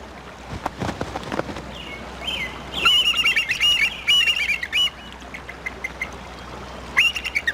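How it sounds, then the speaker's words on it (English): High, squeaky bald eagle calls chatter in bursts over a low background rumble, pausing and then returning briefly near the end. "Bald eagles come from as far away as Alaska to feed on winter runs of chum salmon."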